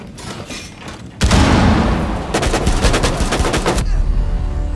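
Loud, close automatic gunfire in Rainbow Six Siege, opening with a heavy blast and followed by a sustained rattling burst of rapid shots that cuts off abruptly near the end.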